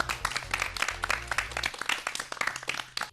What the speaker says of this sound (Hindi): एक बार हमारे सभी प्रतिभागियों के लिए जोरदार तालियां